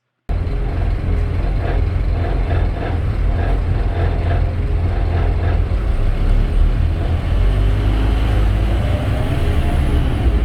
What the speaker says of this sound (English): this bus doesn't sound the healthiest at idle